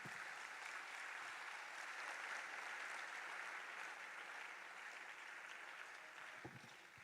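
Sustained applause from a forum audience fills the room steadily for the full stretch, a dense even wash of clapping that eases slightly toward the end.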